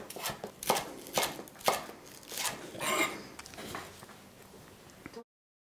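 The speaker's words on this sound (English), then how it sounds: "Last, I'm going to cut the dark green part of the scallion into small little" A knife chops the dark green tops of scallions into small rings on a cutting board, a series of crisp, close taps in uneven rhythm with no talking.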